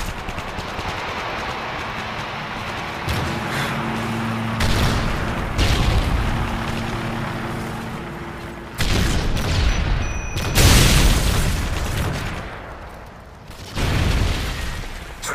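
A Modern Warfare 3 match on PS3, with loud gunfire and heavy booming explosions from missile strikes. The blasts come in several bursts over a constant roar of battle noise.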